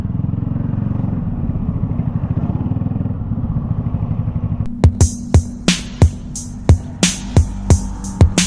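A motorcycle engine rumbles steadily at close range while riding, then sharp rhythmic clattering bursts cut in over the drone at regular intervals toward the end.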